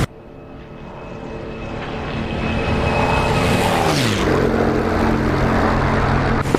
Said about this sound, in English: now let's show you what a fast aeroplane can do.